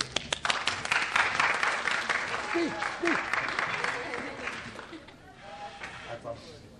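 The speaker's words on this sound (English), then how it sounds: "Give him a round of applause." Audience at a high school spring instrumental concert claps in a dense, fairly loud burst that fades after about five seconds, with some talk and a few whoops mixed in.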